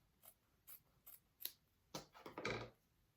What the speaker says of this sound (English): trim it to about 1/4 inch away. You can just use your scissors.